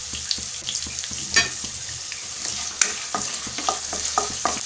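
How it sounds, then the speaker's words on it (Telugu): Vegetables frying in oil with turmeric, a continuous close sizzle broken by frequent clinks and scrapes of a stirring spoon against the pan. "ఇవన్నీ బాగా ఫ్రై కావాలి."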